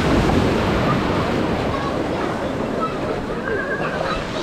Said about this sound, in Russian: Идет волна, они идут на меня.